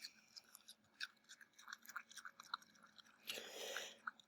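A dog chewing crunchy green grapes, heard up close: quiet, irregular wet crunches and smacks in quick succession, ending in a denser burst of chewing.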